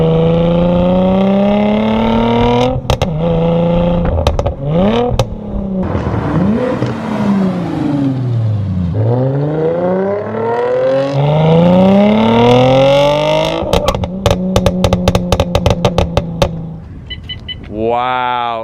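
A manual Mercedes C300 with a naturally aspirated V6 and a pop-and-crackle tune revs hard, its loud engine note sweeping up and down before a rapid burst of sharp crackling pops on the overrun, recorded close.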